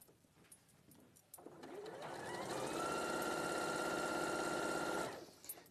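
A sewing machine stitches a quilt seam, speeding up into a fast, steady close-up whirr for a few seconds before stopping, with quiet handling noises around it.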